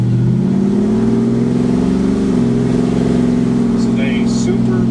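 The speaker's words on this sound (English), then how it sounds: "it's my 68 hot rod. It's got the 502 in it." A 1968 hot rod truck with a 502 engine drives down a residential street, its deep engine drone loud and close, with the pitch shifting slightly as it pulls steadily along.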